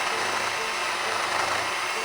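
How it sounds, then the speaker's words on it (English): A power drill bores a hole sideways into a metal steering brace, a steady continuous whir running close and fairly loud for the whole moment, with no pauses. "Now I'll try to drill that hole sideways."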